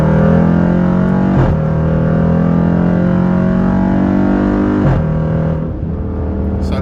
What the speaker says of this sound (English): you guys pretty much hear the exhaust with the different drive modes